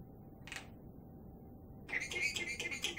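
An African grey parrot gives a short squawk, then after a pause a longer run of chirpy, whistling calls, fairly close in a quiet room.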